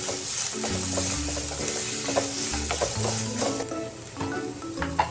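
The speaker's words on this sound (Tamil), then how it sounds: "பெரிய நெல்லிக்காவை அதை ஆட் பண்ணிக்கலாம். நல்லா மிக்ஸ் பண்ணிக்கலாம்." Grated amla (gooseberry) being stirred and mixed in a hot frying pan with a steady sizzle and scraping, and background music running throughout.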